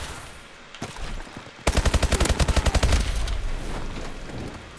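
Call of Duty: Advanced Warfare automatic fire rips out in a fast, even burst of around fifteen close, loud shots, preceded by quieter scattered game noise and trailing into a busy rumble.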